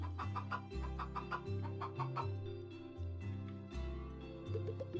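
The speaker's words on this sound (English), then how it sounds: "All right, 30 chickens. Welcome to the world." Chickens cluck in a farm roguelike video game, several short clucks and bird calls layered over steady game music, moderately loud and close.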